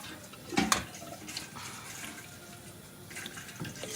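Hot water runs from a kitchen tap while rice toasts for a saffron spice rice dish, a steady rushing splash with a louder burst near the start.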